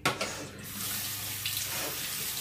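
Cold tap water runs into a sink as a stencil brush is rinsed under it, a steady close rushing flow after a brief clatter at the start, no speech.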